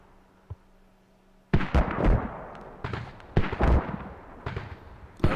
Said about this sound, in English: Hearing some gunshots.